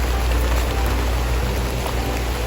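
Steady rain pours down outdoors during a solitary rubber-tapping workday, a dense continuous hiss with a low rumble underneath, close and even throughout with no voices.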